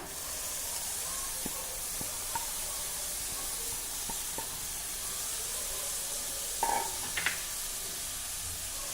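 Paneer cubes added to spiced masala with kitchen king masala in a pan, giving a steady, fairly quiet sizzling hiss with light scattered taps of stirring and a couple of brief louder scrapes near the end.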